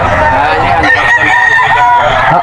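Bullstag gamecocks crowing loudly and close in a single drawn-out cock-a-doodle-doo, with other fowl sounds and voices around.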